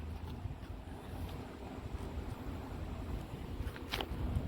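Wind blows steadily outdoors, a constant rushing roar with low rumbling gusts buffeting the microphone, moderately loud with no other sounds.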